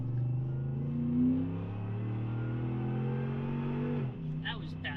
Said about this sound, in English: this is a great opportunity to give you just a little taste of a supercharged Raptor right here